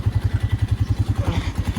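A Tofaş car engine idles with a steady, fast, thumping putter like a small delivery motorbike, loud and close, with no talking over it.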